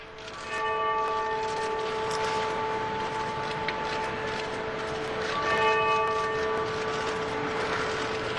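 A memorial bell in Japan, marking the great tsunami and the nuclear disaster, rings with a loud, sustained metallic tone whose long resonant hum decays slowly, then a second strike renews it partway through.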